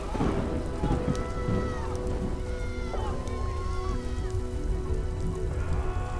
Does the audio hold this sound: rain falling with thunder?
yes